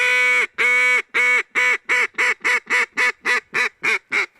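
A handheld duck call blown at mallards gives a loud, close run of about a dozen raspy quacks. The first notes are long, and the rest come shorter and quicker in a steady descending cadence, with no voice.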